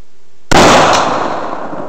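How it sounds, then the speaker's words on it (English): A single loud .30-06 rifle shot cracks out abruptly and close, then its blast rolls away into a long, fading echo, with no other sounds around it. "Boy, I feel that shot."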